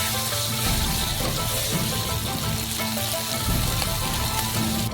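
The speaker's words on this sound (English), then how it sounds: "First, fry them a little bit." Black beans and hot pepper frying in a pan, a loud continuous sizzle and crackle of oil and moisture, steady throughout with no voices.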